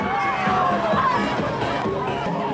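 A street water-gun festival crowd in a city boulevard whoops and cheers amid a busy outdoor hubbub, with shrill voices rising over steady background noise.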